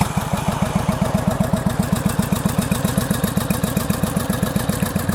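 A 1983 Honda VT750 motorcycle engine idles close and loud with a steady, even thumping pulse and a light tappy valve clatter running through it.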